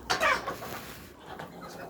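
Hens and young roosters clucking in a backyard coop, a short run of close clucks at the start, then quieter scattered clucks over low farmyard background.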